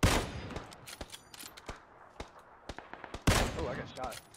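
Gunfire in the online battle game PUBG, a string of sharp, irregular shots cracking at varying distance, with louder bursts at the start and near the end, under faint voices of players talking.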